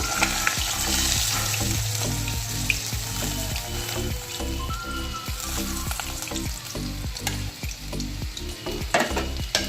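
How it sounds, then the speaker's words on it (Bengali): Pabda fish fry in hot oil with a steady bubbling sizzle, close up, broken by rhythmic scraping and tapping strokes of a spatula in the pan. "বাকি মাছগুলো কিন্তু ঠিক আমি এরকমভাবেই ভেজে নেব।"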